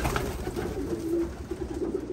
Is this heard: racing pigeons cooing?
yes